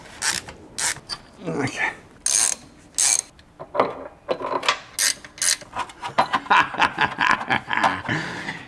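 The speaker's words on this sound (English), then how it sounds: "Loosen the one in the front. All right, now I can get the bolts out." On a Maserati Quattroporte GTS, bolts are loosened and taken out with a ratchet, giving a run of irregular close clicking and metallic ratcheting bursts, with a brief spoken word.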